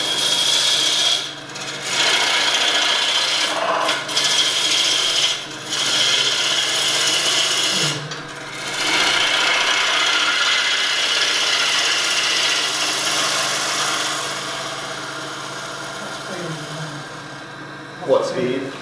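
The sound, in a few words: wood lathe turning a wooden bowl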